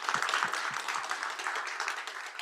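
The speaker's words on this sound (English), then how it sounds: "Please, a round of applause from all of these guys." Audience applause at an agricultural competition finals, a quiet round of clapping with a few distinct nearer claps at the start, thinning and fading slowly, no talk over it.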